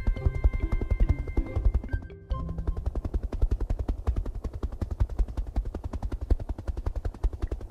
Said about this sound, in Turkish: Bu da helikopter.